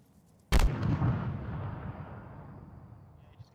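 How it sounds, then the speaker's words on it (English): A video-game hit on a BTR armored vehicle lands as a single sudden, loud blast, followed by a long rumbling decay that fades over the next few seconds. "Sounds like Ben 10 is doing positive hits on those BTR"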